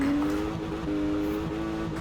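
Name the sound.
handbrake turn of a Porsche Macan in video game Forza Horizon 4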